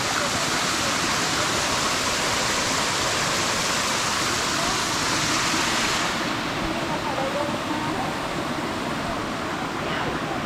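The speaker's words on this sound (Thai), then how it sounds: "น้ำตกร้อน เท่มากเล" A hot waterfall in Krabi pours continuously, a dense, steady roar of rushing water close by, unbroken for the whole stretch.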